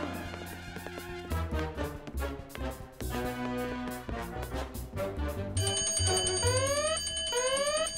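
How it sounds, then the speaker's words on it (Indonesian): A fire alarm rings in a cartoon amid busy background music, rising to a loud, sustained high-pitched ringing with repeating sweeping tones over the final seconds. "Mungkin cuma simulasi alarm kebakaran."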